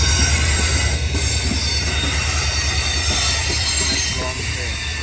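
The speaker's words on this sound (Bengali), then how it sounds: "লং ট্রেন, লং বিশাল লম্বা আজকে ট্রেনটা দেখেন।" A long freight train in Australia rolls past close by, with a heavy steady rumble of rail cars, squealing wheels and clattering over the track, and a voice briefly audible underneath.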